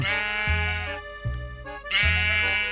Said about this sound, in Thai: แล้วก็เอาเสียงแกะมาทำใส่พิชชิ่เข้าไปเพื่อให้เสียงมันเล็กลง